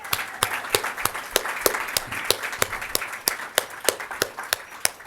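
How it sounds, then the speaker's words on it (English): Audience applause for artists at an art and writing contest event, with loud, distinct, fairly regular handclaps close by over a softer background of clapping throughout. "I would like to just have a hand of applause for those of you that are artists and those of you supporting the artists."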